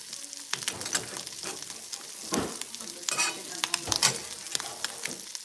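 Scrambled eggs with mortadella, salami, onions, peppers and cheese sizzling in a frying pan, with scraping and stirring strokes from a utensil at an irregular pace, fairly quiet and close.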